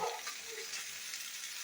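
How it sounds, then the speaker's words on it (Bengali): Ginger sizzles and spatters in hot oil in a pan while an upma is cooked. A faint, steady hiss runs throughout, close by, with no voice. "এটা আমি আদাটা কাঁচা গন্ধ ছাড়া পর্যন্ত এটা ভাজা ভাজা করবো।"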